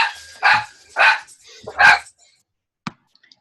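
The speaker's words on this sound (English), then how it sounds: "And a dog has something to say." A dog barks three times in quick succession, loud and close, over a video-call connection, followed by a short click and quiet.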